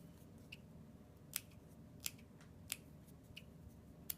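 Scissors make small clips into fabric around an outside curve during sewing, a series of quiet, sharp snips spaced irregularly over a low steady background hum.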